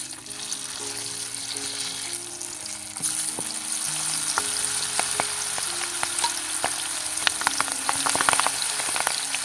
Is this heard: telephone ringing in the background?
no